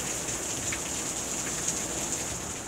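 Rain falling outside as a steady, even hiss of drops on surfaces, constant and moderately loud throughout with no voices.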